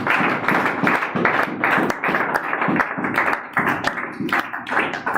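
A church congregation at a Sunday service claps together in a steady, loud rhythm to acclaim the Lord, with no talking over it.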